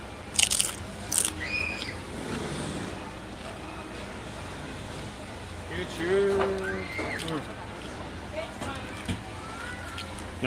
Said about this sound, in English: House-made chips are always good and crunchy.